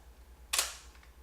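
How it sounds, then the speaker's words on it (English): A Canon F-1 film camera shutter fires once, giving a single sharp, close mechanical click that rings briefly and fades in a quiet room. "That's the shutter."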